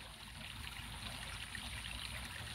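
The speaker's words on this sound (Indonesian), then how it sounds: "kita dengarkan saja gemericik airnya ini dulu" Gently trickling water, a continuous soft babble and splash that stays steady and even throughout, with no voices over it.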